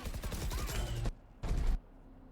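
Valorant gunfire comes as a dense burst of rapid shots, followed by a brief pause and then a second short burst, loud and close.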